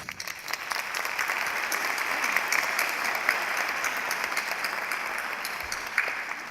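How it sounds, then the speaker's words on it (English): Commencement crowd at Texas A&M University applauds the stage party and faculty, a large hall of steady, sustained clapping with scattered sharper claps standing out, continuing unbroken throughout. "Please join me in a round of applause for the stage party and especially for our faculty."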